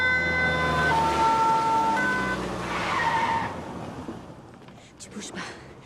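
A fire engine siren wails in a loud, steady tone while car noise fills the scene; it fades toward the end as a voice speaks.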